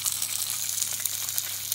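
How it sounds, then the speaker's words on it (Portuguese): Turkey steaks sautéing in a thin drizzle of olive oil in a pot used earlier for spinach, a steady soft sizzle and crackle with faint pops, no voice. "pus um fiozinho de azeite no tacho onde salteei os espinafres e vou saltear aqui também"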